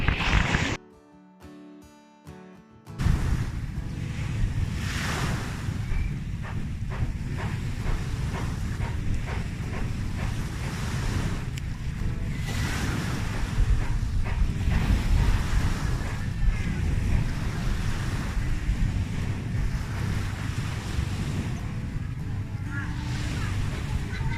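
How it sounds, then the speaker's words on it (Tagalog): Sea surf washes steadily along a beach in Sorsogon, Bicol, a continuous broadband rush with wind buffeting the microphone, opening with a brief burst of noise before the waves settle into a constant roar. "Tingnan niyo yung dagat."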